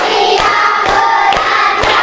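Classroom of fourth-grade children at an elementary school clapping in unison on a teacher's count, about four sharp group claps spaced roughly half a second apart over a steady background murmur.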